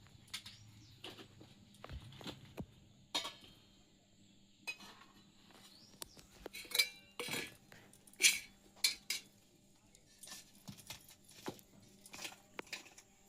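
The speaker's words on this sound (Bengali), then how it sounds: "কড়াইটা বসিয়ে দিলাম।" Metal wok set on a kitchen stove for a Bengali fish curry: scattered quiet clinks, taps and scrapes of cookware, irregular and close, with no talk.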